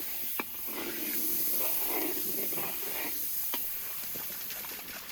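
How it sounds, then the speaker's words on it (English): Homemade butter hissing and sizzling as it melts in a hot pot over a fire, a steady soft frying hiss with a couple of sharper pops, close and alone without talk. "I return it to the fire and add a generous chunk of homemade butter"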